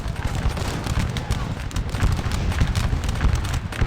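Massed musket volleys and dense battlefield gunfire from a Napoleonic Waterloo battle in Scourge of War, a continuous rumbling fusillade at steady loudness with shouted commands mixed in.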